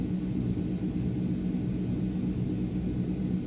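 Airplane engine in Microsoft Flight Simulator 2020 during a group flight over Vietnam, a steady, even drone with a low rumble and a faint high whine, continuous and alone.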